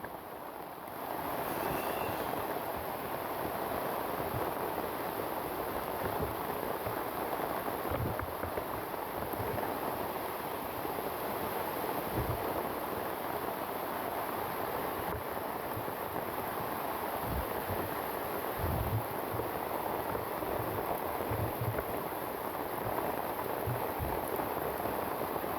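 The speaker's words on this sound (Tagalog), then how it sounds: "Isang ulan." Heavy rain pours steadily on an outdoor spot where chili pepper seedlings grow, a dense continuous hiss with scattered louder drips and splashes throughout, no voices.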